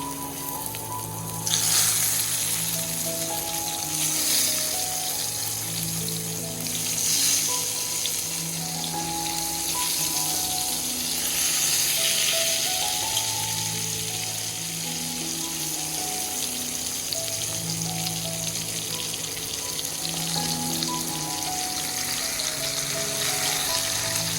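Pointed gourd (potol) slices fry in a pan with a loud, continuous, crackling sizzle that holds steady for a long stretch, with faint background noise beneath.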